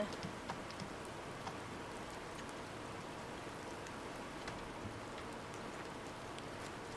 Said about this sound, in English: it looks so cool in the rain